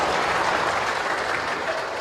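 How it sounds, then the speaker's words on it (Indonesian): A church congregation claps together during a lively sermon, a dense, steady roar of applause held at even loudness throughout, with no voices over it. "Tepuk tangan dulu kasih bapak-bapak."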